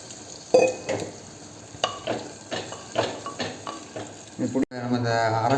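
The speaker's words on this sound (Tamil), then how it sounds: "அடுத்து நம்ம மிக்ஸ் பண்ணி வச்ச சிக்கனை இதுக்குள்ளே போட்டுக்கலாம்." Marinated chicken tossed into ginger-garlic paste in a clay pot, sizzling and frying while a utensil stirs and scrapes against the pot in irregular bursts, close and alone.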